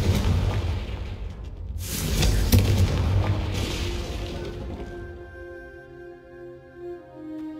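In the Hogwarts Legacy video game, a Confringo fire spell explodes with a loud, rumbling, crackling burst that swells, then trails off into a lingering shimmering tail.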